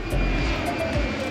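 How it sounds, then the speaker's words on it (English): Airplane engine droning steadily and loud for about a second, a continuous low roar with a broad hiss on top and no talk over it. "Airplanes fly high in the sky."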